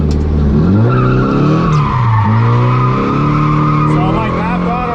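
A car drifting through a transition at half throttle, tires skidding and squealing in long sustained whines that bend up and down in pitch over a loud engine, close and continuous throughout.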